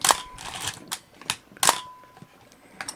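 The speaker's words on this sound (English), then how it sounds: "So that shows that the shutter is working" A Yashica FRII film camera fires its shutter and advances its film in a run of crisp mechanical clicks and snaps spaced unevenly over a few seconds, close and clear with no talking.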